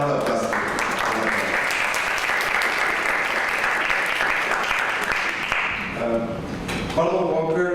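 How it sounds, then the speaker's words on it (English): Audience applause at a community event on domestic violence, steady dense clapping from a crowd that holds for several seconds, then tapers as a voice starts speaking. "and Paul, first of all, for a round of applause."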